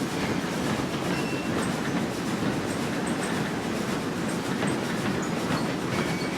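A Class 2F dock tank locomotive on the Falmouth Branch in Train Simulator 2015 runs steadily, its wheels clicking and rumbling in a continuous, moderately loud rail noise, with faint squeals over the top.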